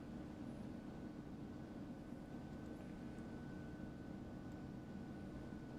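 Aircraft launching from a battleship flight deck in a naval video game, heard as a faint, steady engine drone that holds evenly throughout with no voices.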